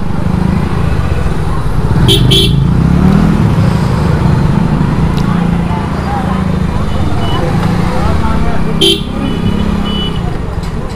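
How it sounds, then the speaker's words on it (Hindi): Busy street traffic in the Kawardha market, with a steady roar of engines and motorbikes and a few sharp car horn toots rising above the din. Voices talk throughout. "अच्छा ट्रैफिक तो कुछ ज़्यादा लग रहा है भाई कुछ।"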